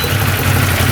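Up close, the UTV's two-cylinder engine idles at around 1300 rpm while still burning off old oil, giving a steady low rumble for a brief moment.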